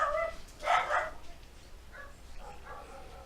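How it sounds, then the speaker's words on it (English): A pet dog barks indoors at home, with one loud, near bark followed by a few softer yips and whimpers that trail off. "my dog is very noisy"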